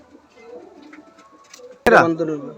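High-flying pigeons coo softly at close range in a loft amid quiet rustling, followed by a sudden louder burst of flapping and calls near the end.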